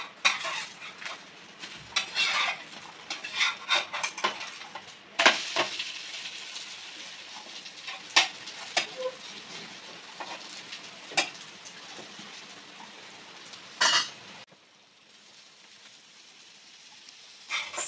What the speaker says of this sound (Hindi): अब हम थोड़ा सा ऑयल डालेंगे और इसे हम पलट देंगे।